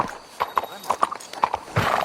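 Horse hooves clip-clop at a walking pace in the video game Red Dead Redemption 2, close by, with a brief whinny and ambient background noise.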